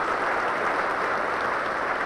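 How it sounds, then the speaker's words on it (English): Thunderous applause fills a church in a steady, dense roar of many hands clapping together with no pauses. "With thunderous applause,"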